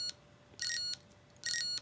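Electronic beeping from a teletype transmitter setup in a workshop: two sustained high-pitched tones, each lasting about a third of a second, separated by a short pause, with a faint click before the first, close and clear with no talk.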